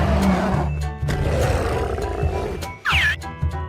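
A giant King Kong gorilla roar, loud and sustained with a heavy low growl, briefly breaking off before a short rising cry near the end.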